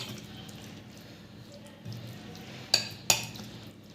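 A spoon stirs semolina handvo batter in a bowl, giving a soft, steady wet scraping followed by two sharp taps against the rim near the end.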